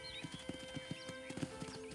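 A horse in Red Dead Redemption clip-clops along at a steady walking pace, evenly spaced close hoofbeats at low volume over a faint game ambience, with a soft whinny mixed in.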